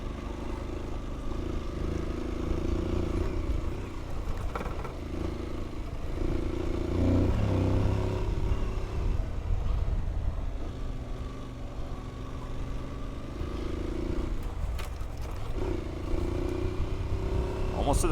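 An adventure motorcycle climbing a mountain trail through tight switchbacks on the Idaho Backcountry Discovery Route, a steady, close engine drone with rising revs and wind rumble, under a rider's occasional talk.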